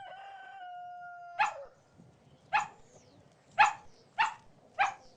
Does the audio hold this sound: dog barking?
yes